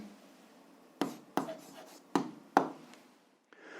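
Pen strokes on paper as an answer is written down, four crisp scratchy marks in quick succession followed by a faint final touch, close and quiet.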